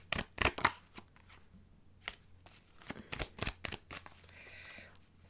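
Tarot cards shuffled by hand, a run of crisp riffling bursts and soft slaps in irregular rhythm, close and fairly quiet with no talking.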